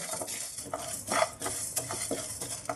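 Chana dal and urad dal fry over a low flame in a kadai, with a steady soft sizzle under repeated rhythmic scraping stirs of a metal spoon.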